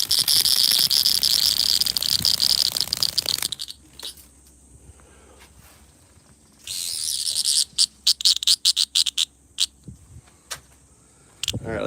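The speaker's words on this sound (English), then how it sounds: "Look at that cicada." A cicada drones loudly and close in an outdoor evening setting, a dense high buzzing that cuts off abruptly, resumes after a pause, then sputters in a rapid series of short stuttering bursts; no talking.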